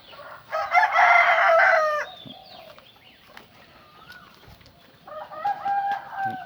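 On a farm, a rooster lets out one loud, drawn-out crow near the start, then softer calls follow and another chicken call rises at the end.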